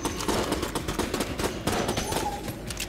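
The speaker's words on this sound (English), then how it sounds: "This place has got lasers and explosions, mostly." Rapid weapon fire in Enter the Gungeon's robot level crackles densely and loudly, with overlapping shots, zaps and small bursts in a continuous, busy stream.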